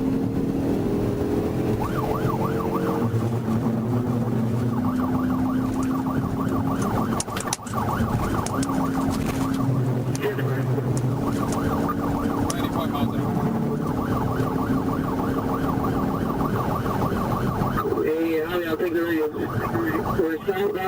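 Police car siren wailing continuously through a high-speed chase on a southbound road, steady rising-and-falling tones over loud engine and road noise, with radio chatter running underneath.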